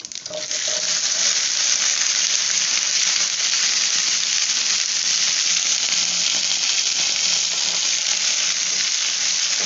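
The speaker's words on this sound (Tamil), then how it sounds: "இப்போ வெண்டைக்காவை நம்ம வந்து போட்டுருவோம்" Okra (ladies finger) frying with curry leaves in a pan gives a loud, steady sizzle that holds evenly throughout, with no voices.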